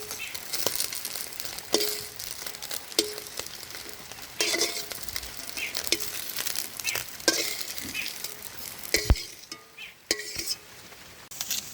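Small mourala fish and shrimp frying in a pan, an uneven sizzle mixed with stirring scrapes and utensil clinks at moderate volume.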